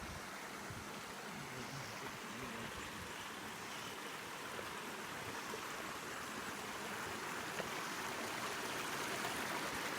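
A continuous, even rush of flowing river water, steady and quite faint, with no voices or other distinct sounds.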